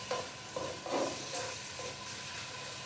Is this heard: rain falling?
no